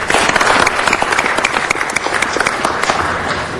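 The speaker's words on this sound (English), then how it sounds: "Let's give a round of applause, please." People at a city council meeting applaud a visiting consul general, loud, close and dense clapping from a crowded chamber that continues evenly throughout.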